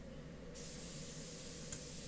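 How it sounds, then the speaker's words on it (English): Spray paint hissing onto a dresser during a refinishing job, a steady close aerosol hiss that begins abruptly and runs without a break, with no talking. "And I'm going to spray 2 coats of this paint."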